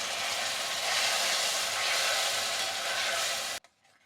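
Ground spice paste with cumin and red masala frying in a pan for a cauliflower and pea curry, a soft steady sizzle for a few seconds that stops abruptly, fairly faint.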